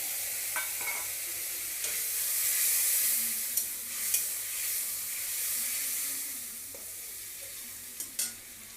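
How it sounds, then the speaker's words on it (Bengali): Egg curry sizzles and fries steadily in a pan as a little water goes in, with hissing steam, a few sharp spatters and stirring clicks, close and fairly loud with no talk. "এবার আমি সামান্য একটু জল অ্যাড করে দিচ্ছি, বেশি জল দেবো না।"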